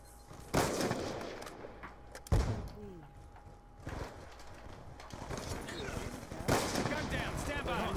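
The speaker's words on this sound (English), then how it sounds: "I'm messing up so bad, I don't even know where the hell I'm shooting" Video game gunfire, several loud sharp shots and bursts over a constant rumble of game noise, with a voice talking over it.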